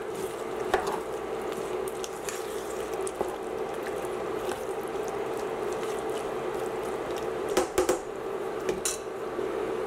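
Chicken pot pie filling stirred in a pot, a low steady simmering hum with occasional soft scrapes and clinks of a utensil against the pot, a few louder knocks near the end.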